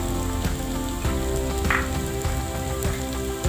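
Pepper chicken sizzles steadily in a hot pan with brown onions, a constant close frying hiss broken by a few soft stirring scrapes and knocks.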